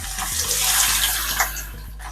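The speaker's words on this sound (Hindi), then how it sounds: "प्याज को डाल के हम ब्राउन कर लेंगे।" Sliced onion hits very hot oil and fries, giving a dense, steady hiss and crackle up close, with a low constant hum underneath throughout.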